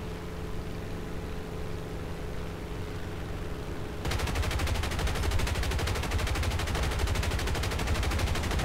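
A P-47D fighter in War Thunder strafes ground targets, its guns opening at about four seconds into a fast, dense, unbroken burst of loud machine-gun fire over steady engine drone.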